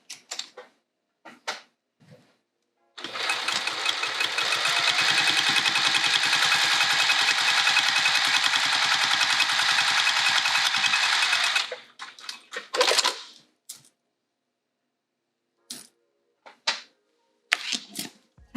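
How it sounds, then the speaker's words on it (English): A sewing machine top stitches a fabric pouch in one steady, continuous run of about nine seconds, close and fairly loud. Short handling knocks and clicks come before and after it. "now this is pulled out of the way and I can top stitch that"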